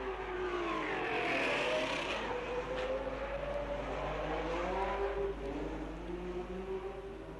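Race cars at the 1960 Monaco Grand Prix roar past one after another, their engine notes rising and sweeping down as each car goes by, loud and continuous.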